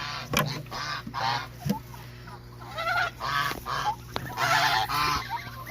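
A small goose with a hurt foot honks repeatedly in loud, nasal bursts, close by, with a few sharp knocks and a steady background hiss between calls.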